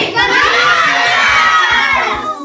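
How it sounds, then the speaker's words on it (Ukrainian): A group of children at an autumn church festival for displaced families loudly shouting their names all at once, a dense, overlapping roar of young voices, close and sustained before tapering off. "Давайте зараз голосно голосно крикнемо свої імена."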